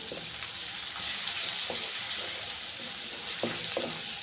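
Garlic and chili paste frying in ghee, a steady close sizzle and crackle with a few soft stirring scrapes, no voices.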